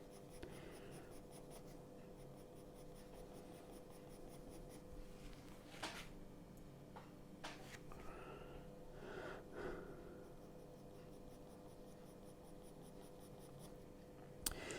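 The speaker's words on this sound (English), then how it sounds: "So just applying some of this 4B, just so that I'm not having a flat drawing" A 4B pencil shades a drawing with soft, close scratching strokes that run steadily for about fifteen seconds and are faint throughout.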